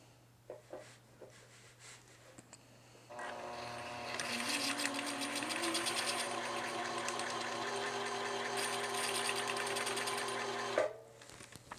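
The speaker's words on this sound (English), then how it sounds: "we're going to gently press on our presser foot, and we're going to wind a bobbin." A Juki TL-2010Q semi-industrial sewing machine winds a bobbin, starting after a brief pause and running with a steady mechanical whir for about eight seconds before stopping, close and clear.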